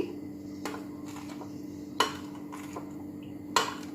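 A spoon stirs Moroccan harira soup in a pot, scraping and knocking against the metal with a few sharp clinks over a low steady hum.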